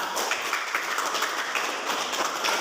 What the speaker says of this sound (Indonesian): Ya, tepuk tangan kepada kelompok 3.